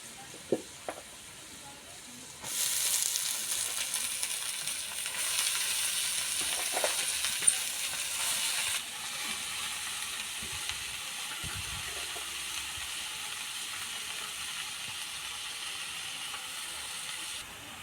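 Leafy saag greens hit a hot pan and burst into loud, hissing sizzling after a quiet start, the crackle staying strong for several seconds before settling into a softer, continuous fry.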